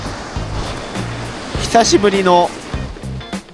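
Ocean surf at Hiratsuka beach on the Shonan coast during skimboard practice, a continuous wash of breaking waves close by under someone speaking, with brief louder bursts of turbulent water.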